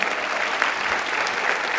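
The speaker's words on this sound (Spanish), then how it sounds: "un aplauso para ustedes" A theatre audience at a book presentation in Santiago, Chile, breaks into brief, dense applause. The clapping is steady, fairly loud and close, with no speech over it.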